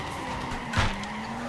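A car in the Torque Drift racing video game is drifted with the handbrake, giving one quick tire screech over a steady engine drone.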